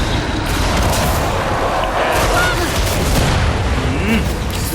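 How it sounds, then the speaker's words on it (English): Dense, continuous gunfire and booming blasts from the video game Killing Floor 2 fill the scene, loud and unbroken, with voices talking over the shooting. "He shoots, he kills!"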